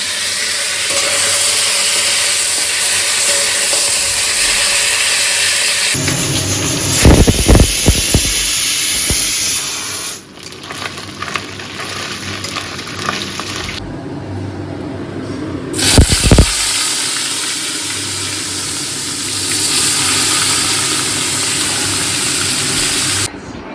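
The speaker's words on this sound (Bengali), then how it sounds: "আজকে করছি মাথাটা এখন ভাজছি মাছের মাথাটা" A fish head fries in hot oil in a home kitchen, a loud steady sizzle and hiss that runs throughout, with a few clanks and scrapes partway through and brief quieter stretches.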